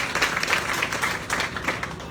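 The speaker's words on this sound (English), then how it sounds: "Give them a round of applause." An audience claps steadily at a groundbreaking ceremony for the Port Wonder venue on Lake Charles, Louisiana, honoring the Avery family. The dense, even applause carries on from start to finish.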